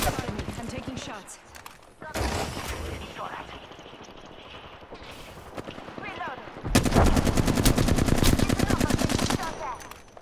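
Apex Legends gunfire, heard as rapid automatic bursts and single shots, close and loud, with a long sustained burst near the end, plus game effects and background chatter.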